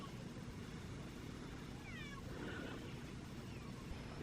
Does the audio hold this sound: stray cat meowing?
yes